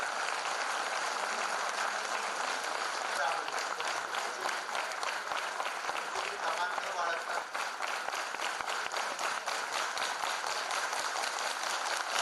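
Sustained applause from a large audience at an event with an education minister, a dense steady wash of clapping throughout with no pauses.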